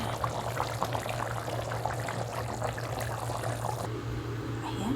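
Water pours steadily into a pot, a continuous splashing gurgle with a low background hum, the flow easing near the end.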